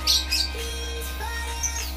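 Young lovebird chicks about twenty days old give a few short, sharp squawks and chirps close by, with brief bursts over a steady low hum and no speech.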